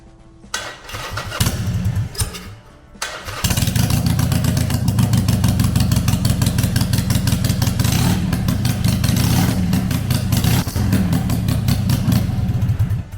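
A 2016 Harley-Davidson XL883 Iron motorcycle's engine turns over and fires up after about three seconds, then settles into a loud, steady, lumpy close-range idle with no talking.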